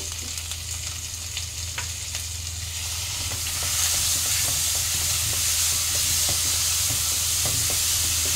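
Spice paste with salt and turmeric stir-fried over a low gas flame for a papaya fish curry, a steady close sizzle with scraping stirs, growing louder and hissier partway through, no voices.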